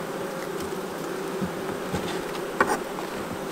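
Honeybees buzz steadily around a brood frame at an opened hive as bees are shaken off it, a dense continuous drone close by, with a few faint knocks and a soft bump near the end.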